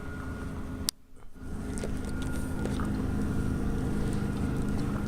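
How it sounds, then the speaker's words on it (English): A steady low drone of a boat motor heard underwater through a hydrophone, with a brief dropout near the start, then a constant murky hum with faint clicks. "I'm listening to that boat right there under the water"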